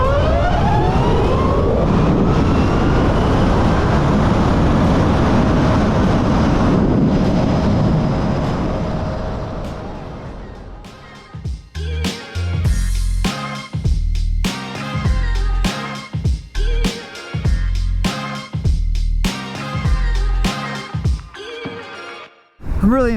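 A LiveWire S2 Alpinista electric motorcycle launches at full throttle, a loud sustained whine and wind roar giving way to a series of sharp, irregular bursts and thumps toward the end.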